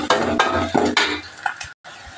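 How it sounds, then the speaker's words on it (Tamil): Curry leaves and tempering stirred into a pot of sambar with plantain, giving several loud sizzling, scraping stir strokes in quick succession and then a brief pause. "கருவேப்பில எல்லாம் போட்டு தாளிச்சிட்டு சாம்பாரில் கலந்து மூணு வரமிளகா சேர்த்துக்கு"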